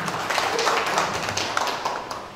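An audience at a palm-oil plantation training session at an Indonesian pesantren claps in a brief, moderately loud burst of scattered applause that tapers off.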